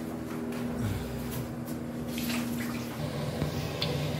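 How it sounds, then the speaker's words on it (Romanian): Water boiling in a cooking pot on a home stove, a steady bubbling and hissing wash that stays constant throughout, fairly close and with no talking. "Acum apa aici deja fierbe"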